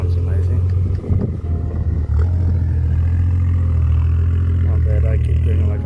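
A BMW M2 with a Supreme Technic exhaust rumbles loudly and steadily close by, its low engine drone holding throughout with slight swells, while people talk over it.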